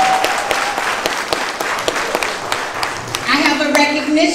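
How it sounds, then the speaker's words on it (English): Applause from an audience welcoming a staff member at a school community event, a dense patter of many hands clapping at steady loudness with faint voices mixed in throughout. "Let's give a big round of applause."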